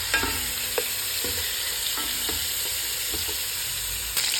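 Pork for sinigang sizzles and fries steadily in a pan, broken by several soft scrapes and stirs at regular intervals. The frying is fairly quiet, with no talking.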